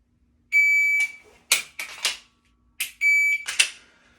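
Electronic shot timer at a reload practice session gives two sharp, high beeps, each followed by a few quick loud cracks of gunfire, close and clear with no talking.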